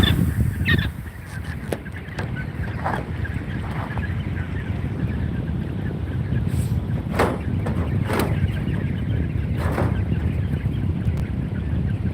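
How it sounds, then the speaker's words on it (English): Geese honk repeatedly in short bursts over a constant low rumble of wind or engine noise, some calls close and loud, others fainter. "Show you the birds real quick"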